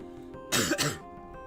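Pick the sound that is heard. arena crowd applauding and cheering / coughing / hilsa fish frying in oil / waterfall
coughing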